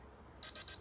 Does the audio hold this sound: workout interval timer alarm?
yes